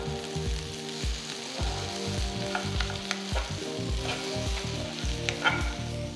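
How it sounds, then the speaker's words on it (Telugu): Okra frying in a pan on a medium flame, a continuous close sizzle broken by the rhythmic scrape and knock of a spatula stirring the pieces, steady and moderately loud with no talk. "సో బెండకాయల్ని మీడియం ఫ్లేమ్లోనే ఒక 10 మినిట్స్ బాగా మనం దీన్ని ఫ్రై చేసుకుందాం."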